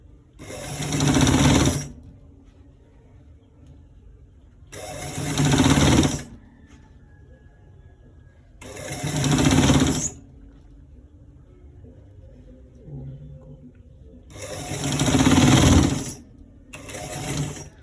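A sewing machine stitching a collar roll runs in five separate bursts of about a second or two each, loud and close, separated by quiet pauses.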